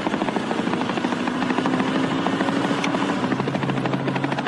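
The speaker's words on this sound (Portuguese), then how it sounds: "E esse helicóptero aí? De quem é?" Helicopter flying nearby with a loud, steady rotor chop and droning engine hum throughout, its pitch shifting slightly partway through.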